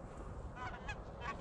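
Wild geese honk during a goose hunt, several faint calls rising at intervals over a low rumbling outdoor background.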